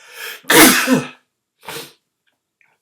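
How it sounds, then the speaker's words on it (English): A single loud sneeze close by, preceded by a short inhale and followed by a brief sniff, then silence. "Hold on, I'm going to sneeze."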